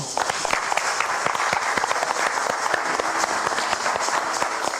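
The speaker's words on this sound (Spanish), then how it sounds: "También pido un aplauso para él." Sustained audience applause for a guest at an evening event, a dense, steady wash of many hands clapping at even loudness throughout with no speech over it.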